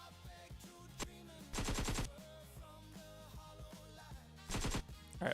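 Animated AK rifle fire as a game-style sound effect: short rapid bursts of automatic shots repeating in quick volleys over a quiet backdrop of clicks and tones.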